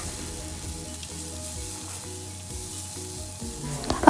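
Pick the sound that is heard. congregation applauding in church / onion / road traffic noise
onion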